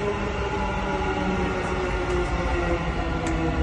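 A Dubai metro train pulls into a station, a steady loud rolling rumble with a sustained mechanical hum, close and continuous throughout, no voices.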